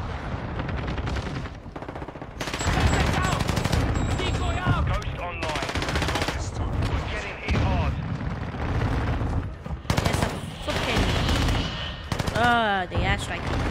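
Simulated gunfire from a decoy grenade in a video game, with dense bursts of rattling shots and booms, loud and continuous, mixed with a person talking.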